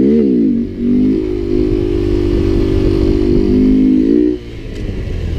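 A Honda Grom motorcycle engine holds a steady, loud mid-pitched drone as the bike is lifted into a slow wheelie, dipping briefly near the start and dropping off sharply toward the end as the throttle eases.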